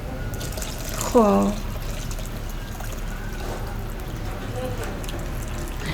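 Water poured over rice in a pot for Uzbek-style Afghan pulao, a continuous liquid rush and trickle with a short voice over it.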